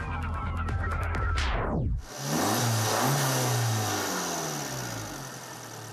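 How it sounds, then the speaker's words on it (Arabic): A Fiat Abarth 595 with a turbocharged petrol engine of about 180 horsepower revs hard, rises to a high pitch, drops sharply, then settles into a loud, steady, throaty drone close by. "محرك التوربو يعمل بالبنزين وتبلغ قدرته 180 حصانا تقريبا"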